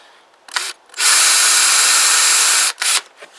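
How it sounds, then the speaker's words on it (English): A power drill spins a bit into material on a Tamoretti Retro 50 scooter, with a short burst of drilling followed by one long steady whine, then another brief burst, loud and close with no talking. "We'll go for a longer drill bit."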